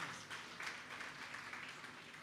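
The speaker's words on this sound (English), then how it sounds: "let's give them a lovely round of applause" An audience at a Divali celebration applauds young performers, a faint, distant wash of many hands clapping steadily throughout with no voices on top.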